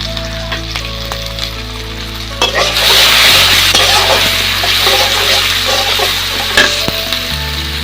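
Chopped onion, garlic, bay leaf and green chilli hit hot oil in a pan for a kids' picnic feast, bursting into a loud, dense sizzle that keeps roaring steadily after a quieter start, with no talking.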